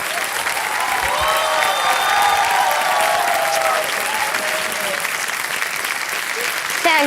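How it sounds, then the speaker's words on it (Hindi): A studio audience on the KBC quiz-show set applauds steadily and loudly for a contestant. The dense clapping continues throughout, with voices faintly present underneath. "तालियां बजाएं इनके लिए।"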